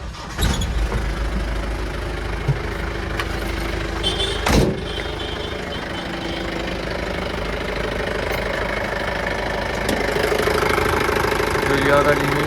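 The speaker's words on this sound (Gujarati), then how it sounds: "જોઈ લો આ ગાડીનું ઇન્જિન છે" A Mahindra Bolero with 67,000 on the clock idles with its hood open, the diesel engine knocking steadily up close while someone talks over it and a couple of sharp clanks cut through.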